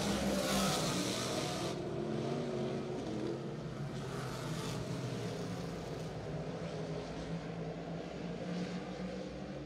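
Race cars at New Egypt Speedway run their final lap, a continuous distant engine roar that swells and fades slightly as the field circles the track.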